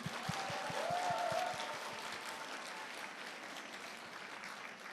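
A crowd at a launch ceremony claps steadily, a warm patter of many hands that is strongest early and slowly fades, with a faint tone briefly rising through it.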